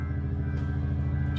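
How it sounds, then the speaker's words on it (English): A train arriving at a snowy station in Hokkaido, Japan, heard as a steady, loud low-frequency rumble and engine hum that holds without a break throughout. "Oh, here comes another train."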